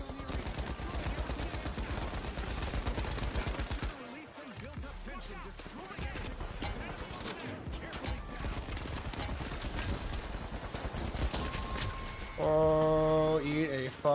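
Rapid gunfire in a first-person shooter video game, with bursts of shots repeating throughout amid busy game sound, a short lull partway through, and a loud dense burst near the end.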